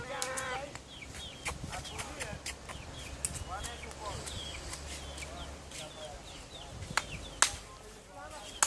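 Chickens clucking on a tropical spice farm, short calls scattered through the clip over steady outdoor background noise, with people talking nearby.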